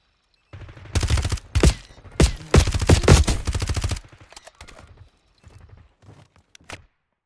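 Dense, loud bursts of automatic gunfire crackle in the Black Ops 6 video game, heavy rapid volleys for several seconds, then thinning into scattered, quieter single shots and short bursts.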